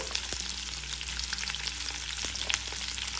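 Sliced onions frying in oil in a pan, a steady, close crackling sizzle with scattered pops that runs evenly throughout at a moderate level, with no voices.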